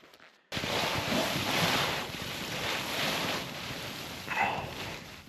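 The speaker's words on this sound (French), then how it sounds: "Aujourd'hui, ça a l'air d'être de nouveau très venteux" Strong, gusty wind roaring into the microphone at a winter campsite during a polar vortex, a loud, continuous broadband rush with swelling gusts, close and unbroken after a brief quiet start.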